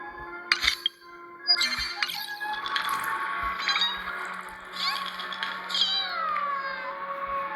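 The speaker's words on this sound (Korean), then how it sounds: "너무 고양이 울음소리 같은" Creatures in the game Penacony cry like cats, giving a string of close, high-pitched meow-like wails with some faint clinks beneath them.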